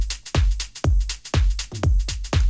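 An electronic drum beat pulses with punchy, booming kicks about twice a second, crisp hi-hat ticks and snare hits between them, all close and loud.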